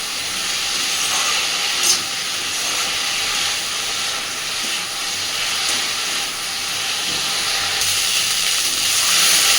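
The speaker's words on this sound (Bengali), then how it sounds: "লবণ আর হলুদটাকে দিয়ে বেশ সুন্দর করে কুদ্রিটাকে এবার ভাজতে থাকবে।" Ivy gourd (kudri) fries in a pan with salt and turmeric, producing a loud, continuous broadband sizzle that holds steady throughout with one brief sharper crackle early on.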